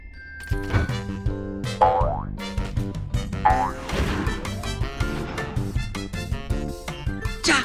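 Repeated springy cartoon boings bounce over a busy musical backing, with crashes and whacks mixed in, loud and lively throughout.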